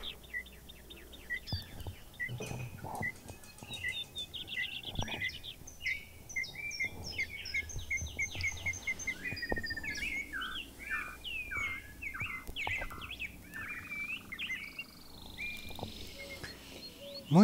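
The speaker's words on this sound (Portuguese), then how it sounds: "Muito passarinho." Many small birds sing and chirp together outdoors, a dense, continuous chorus of bright overlapping tweets and trills at moderate distance, lasting throughout with no talking.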